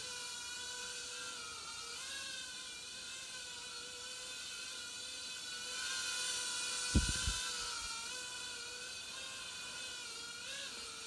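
A Propel micro drone flies close by with a steady high-pitched rotor whine, its pitch wavering slightly as it moves, and a couple of brief knocks near the end.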